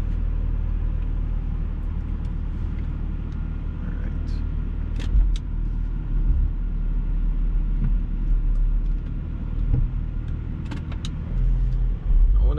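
A BMW M340i cruises around a neighborhood, its engine and road noise a steady low rumble with occasional bumps and clicks from the cabin.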